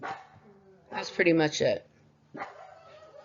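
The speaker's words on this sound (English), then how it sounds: "And my barking dog in the background." A dog barks a few times in the background of a room, short yips and barks mixed in with a person talking nearby.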